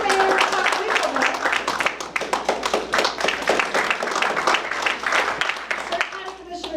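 An audience at a veterans' recognition event claps for the mayor, a dense, steady round of applause that stays loud for several seconds and then thins slightly toward the end.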